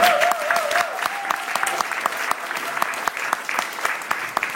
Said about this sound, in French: Je voudrais qu'on les acclame.